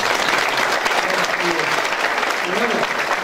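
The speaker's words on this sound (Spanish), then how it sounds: "Levantate un poco, Pereira, que te aplaudo un poco" Audience at a product launch event applauding a governor, dense continuous clapping throughout with voices faintly mixed in underneath.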